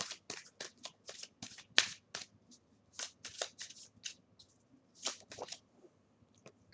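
A deck of adult oracle cards gets shuffled by hand, many quick crisp riffles and soft slaps in uneven bursts with brief pauses, close and quiet, no talking.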